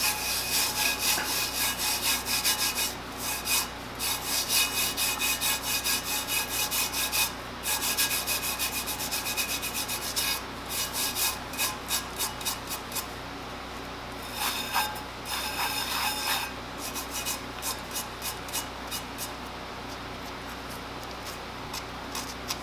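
Continuous hand rubbing on the surface of a tumbler, a steady close scratchy friction with repeated strokes and brief pauses, no talking.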